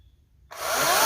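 A Ryobi 40V battery electric chainsaw starts abruptly after a short silence, its motor and chain spinning up into a loud, steady high-pitched whir close by.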